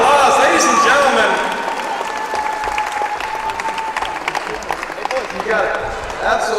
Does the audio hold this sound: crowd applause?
yes